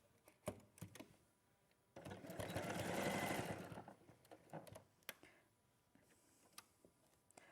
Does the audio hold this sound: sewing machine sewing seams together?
yes